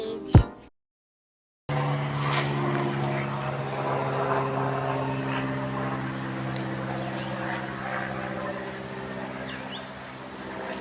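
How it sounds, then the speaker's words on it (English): A low-flying airplane passes close overhead outdoors, a steady loud droning engine rumble with strong low hum that holds for several seconds after a brief gap, slowly easing toward the end. "There's a literal plane like flying out here, and it's like that close to like the ground."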